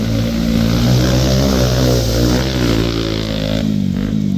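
A loud, close engine roars and revs steadily, its pitch wavering as the vehicle accelerates at full speed in off-road mode, with no voices.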